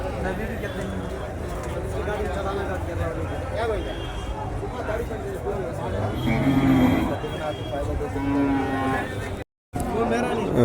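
Cattle low repeatedly amid a busy livestock market in Orappam, Krishnagiri district, with a crowd chattering and people talking throughout and occasional louder moos rising above the hubbub.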